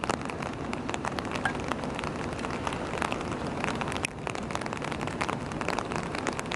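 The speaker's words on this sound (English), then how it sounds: "It's been thundering and raining and pouring for the past hour" Rain pours hard in Chicago during a thunderstorm, a dense steady patter of drops striking nearby surfaces with scattered sharper splashes, close and continuous without voices.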